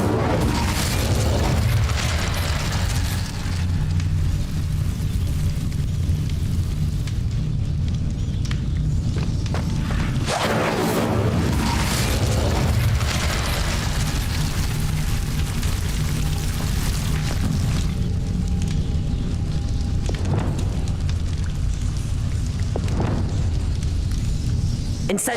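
Repeated Incendio fire spells in Hogwarts Legacy, continuous roaring flame bursts with heavier blasts around ten and twenty seconds, loud and dense throughout with occasional footsteps and clatter beneath.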